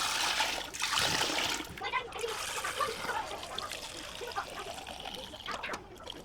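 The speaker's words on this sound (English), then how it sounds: "The next step is gonna be straining it into my stock pot through my strainer." Bone broth is strained out of a large pot through a strainer into a stock pot, giving a steady, fairly loud splashing trickle of liquid for several seconds, with louder pours near the start and toward the end.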